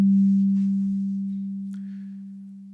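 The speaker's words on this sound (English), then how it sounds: "if I only press one key, it creates one fundamental frequency" A single steady FM synthesizer sine tone from the Dexed software synth holds one low pitch throughout, slowly fading, with faint incidental noises above it.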